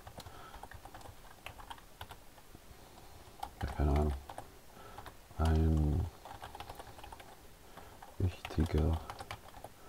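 Typing on a computer keyboard while writing a sentence in Markdown, heard as light, irregular key clicks under and between someone speaking German.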